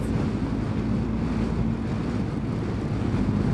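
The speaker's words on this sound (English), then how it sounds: "It is really windy, isn't it?" Strong wind roars against the microphone on a motorcycle ride through the Brecon Beacons, a dense, steady low rumble that fills the whole moment without any speech.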